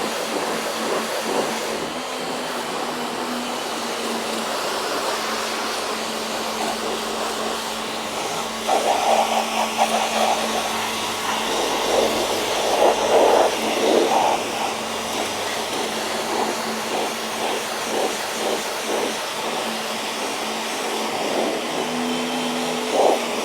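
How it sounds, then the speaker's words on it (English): A pressure washer sprays a Tesla Model 3, a steady hissing rush that runs the whole time with brief bursts of harder spattering against the car's panels. "while I get the old pressure washer out"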